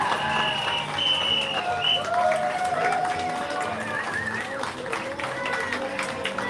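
A crowd at the Italy pavilion in Epcot, Walt Disney World, cheers and claps for an Italian mime, applause and voices blending into a steady, dense roar throughout.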